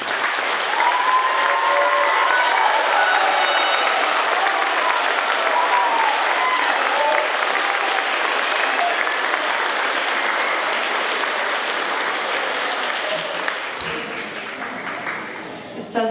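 Audience applause for student performers standing at a school band concert, dense and sustained for about fourteen seconds with mixed voices and cheers inside it, then tapering off.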